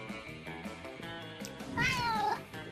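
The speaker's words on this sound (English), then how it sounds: "I am sorry for this noisy cat." A cat meows loudly near the end, a rising and falling wail following a stretch of soft background sound with light tapping.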